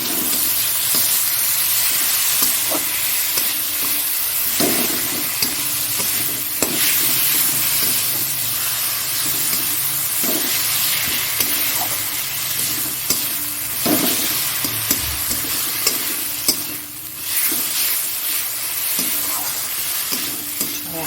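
Animal fat sizzles and spits steadily in a hot pan while a potato curry (aloo dum) is being made, with scattered stirring clicks and scrapes over a constant frying hiss, close up and without talk.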